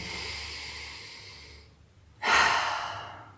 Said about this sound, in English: deep inhale through the nose and exhale through the mouth